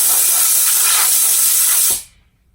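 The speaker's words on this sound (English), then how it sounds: "We can do this with compressed air by just blowing the pad off." A compressed-air blast cleaning the hook and loop pad of a Dynabrade random orbital sander, a loud steady hiss lasting about two seconds before cutting off abruptly into near silence.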